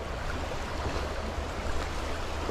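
River water rushing out from below a dam turbine, a loud, continuous roar of churning flow heard up close, broad and steady with no voices.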